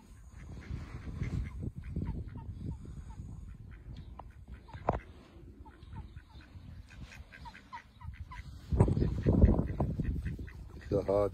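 Ducks quack and honk close by in repeated bursts, growing louder and busier toward the end, while people talk over and between the calls.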